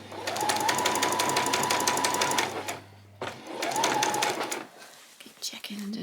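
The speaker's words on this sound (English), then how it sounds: "So just stitching this on an ordinary stitch all the way around." A sewing machine runs an ordinary stitch around a peasant skirt in two bursts of rapid, even whirring, pausing briefly between them, close and fairly quiet.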